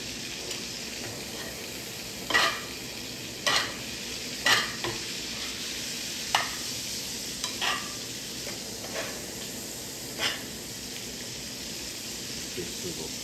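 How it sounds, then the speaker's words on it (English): Chicken pan-searing in a hot pan gives a steady low sizzle, broken by several sharp spatters and pops spread through the span, fairly quiet overall. "Good sizzle."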